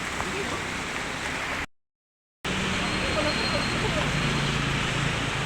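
Steady rain pours down in a dense hiss, broken by a brief moment of silence before resuming just as heavily.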